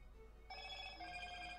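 A telephone rings with a steady electronic tone, faint and alone against a low hum, continuing without pause after a soft start.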